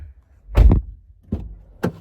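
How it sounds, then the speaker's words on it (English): A car door unlatched and swung open, heard as a solid thunk with a click, followed by two shorter, softer clicks in a quiet space with no voices. "They gotta open the car door."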